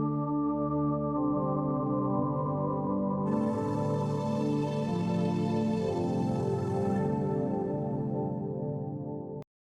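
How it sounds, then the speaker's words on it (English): Sustained four-layer synthesizer pads, warm and layered chords; a brighter, airy layer joins partway through, then everything cuts off abruptly at the end. "Next up the pads, there are 4 layers to it which sound like this."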